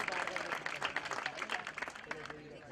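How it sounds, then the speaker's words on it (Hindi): Applause from a crowd at the National Inclusion Cup 2017 inauguration event, steady dense clapping throughout, fairly faint and fading slightly toward the end. "जोरदार तालियां"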